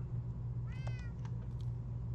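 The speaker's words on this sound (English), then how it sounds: "My cat keeps following me in here." A house cat gives a single short, clear meow at close range over a steady low hum, with a few faint clicks afterward.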